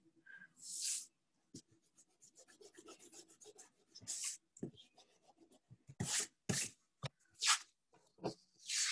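A pencil sketches lettering on paper in short scratchy strokes and rubs, close and quiet, coming in irregular bursts separated by brief pauses.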